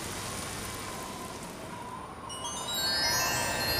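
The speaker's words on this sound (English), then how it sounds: "It's all cloudy and rainy." Rain falls steadily as a soft, even hiss seen through an aircraft window on a cloudy day, swelling slightly louder toward the end with no talking.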